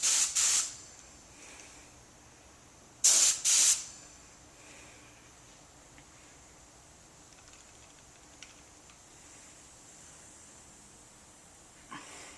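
Short, sharp hissing bursts of spray as Cerakote H series heat-cure coating goes onto a part, one burst at the start and a double burst around three seconds in, then a quiet room with faint clicks.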